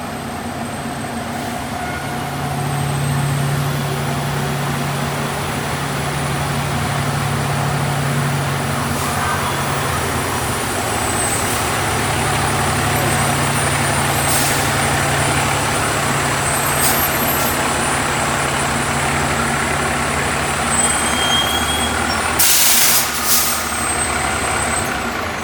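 A truck pulls into a fire-station bay for a MagneGrip exhaust extraction hookup, its engine rumbling low and steady throughout, with brief hissing air-brake bursts near the end; no one speaks.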